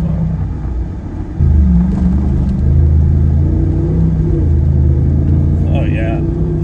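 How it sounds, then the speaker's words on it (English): Jeep engine revving on the slab rock section of the Rubicon Trail, a loud continuous low rumble that swells after the first second and holds steady, with people talking over it. "We could at least gas it a little bit on the slab"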